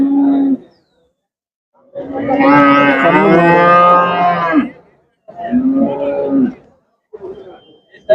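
Jersey cross dairy cattle moo loudly and close at the Manapparai cattle market, several drawn-out bellowing calls in a row with brief quiet gaps between them.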